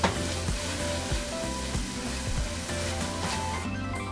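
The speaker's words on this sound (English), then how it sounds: "I'm adding a tablespoon of butter, letting that melt" A tablespoon of butter melts and sizzles in a frying pan while keto zucchini noodles and meatballs cook, giving a steady, close crackling hiss with faint clatter throughout.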